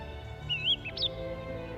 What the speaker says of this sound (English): There's a thrush singing.